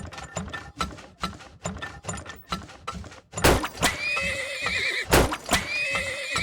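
Horses in a video game trot with quick rhythmic clip-clops, then whinny loudly with shrill, wavering neighs, several calls overlapping up close, with mechanical clicking at the start.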